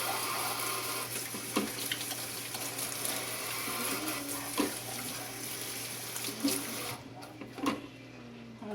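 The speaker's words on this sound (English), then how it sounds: "Do a quick hand wash." Hands washed under a running kitchen tap, a continuous close splash of water with a few louder bursts and rubs, ending as the flow stops near the end.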